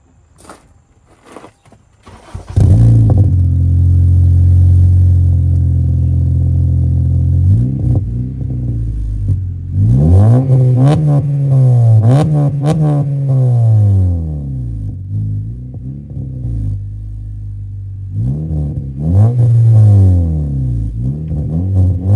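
A 2013 Honda Civic Si two-door coupe fitted with an Invidia N1 catback exhaust starts up after a few clicks, settles into a deep idle, then revs repeatedly in rising and falling sweeps, loud and close.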